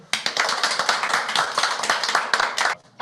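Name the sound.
applause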